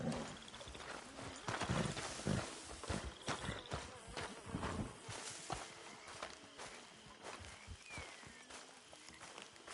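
Horse hooves clip-clop at a walking pace in Red Dead Redemption 2, a steady rhythm of fairly close hoofbeats with faint ambient insect noise behind them.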